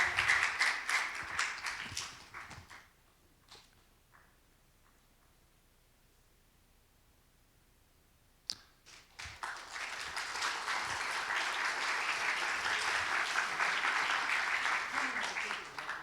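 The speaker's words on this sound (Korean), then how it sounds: "박수를 부탁드립니다" Congregation applauding during a certificate presentation at a Friday evening church service, a burst of clapping that fades into a quiet pause, then swells again into loud, sustained applause.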